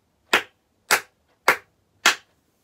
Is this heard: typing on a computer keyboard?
no